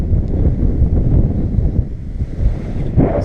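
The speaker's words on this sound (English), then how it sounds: "Whew, windy." Strong wind gusting across a hilltop at Moel Llys Y Coed, a heavy, steady low roar buffeting the microphone with slight surges, loud and constant, with no talking.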